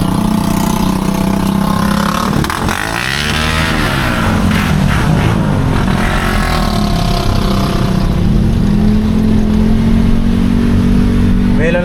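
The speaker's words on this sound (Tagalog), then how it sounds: "Nakakadaan yung motor pare." A motorcycle pushes through deep flood water: its engine rumbles and revs continuously up close, with a sweeping surge partway through amid a dense wash of noise.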